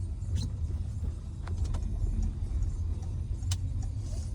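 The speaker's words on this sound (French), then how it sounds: "je vais vous laisser écouter un petit peu s'il y a du bruit au niveau des suspensions" Peugeot 3008 Féline SUV with a 155 hp engine rolling over a speed bump, a steady low road and engine rumble with a few faint knocks and rattles from inside the cabin, no talking.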